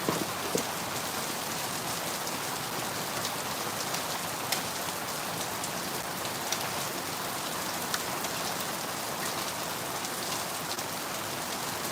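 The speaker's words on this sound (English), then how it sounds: "So it's hailing now." Hail falls during a storm with a dense, constant hiss of pellets striking surfaces, peppered by sharper individual clicks and taps, steady and fairly loud with no talk.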